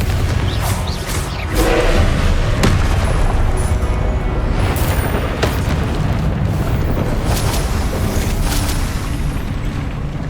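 Confringo fire spells blasting in Hogwarts Legacy combat: dense, loud explosive booms and crackling bursts roll on continuously, one after another, with no pause for the whole stretch.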